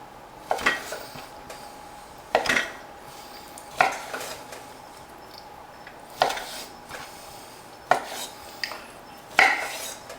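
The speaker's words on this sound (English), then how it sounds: "These meatballs, I'm going to cut these in 4." A utensil cuts meatballs into quarters in a pan, making about six sharp metallic clinks and scrapes at irregular intervals against a quiet background.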